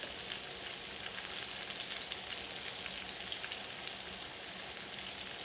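Okra cakes fry in a hot pan with a steady, dense sizzle and crackle, close and continuous with no talking.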